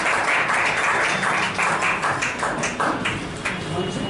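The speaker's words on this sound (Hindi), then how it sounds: "एक बार तालियां बजाइए मनोज ठाकुर" An audience at a national poets' gathering applauds poet Manoj Thakur, steady dense clapping with distinct slaps that holds loud throughout and eases slightly toward the end.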